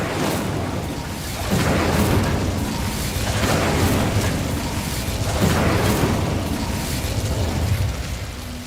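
Fire spell blasts from Hogwarts Legacy, a steady roaring, booming barrage with repeated surges of rumbling bursts and crackling fiery wash, loud and continuous with no talk.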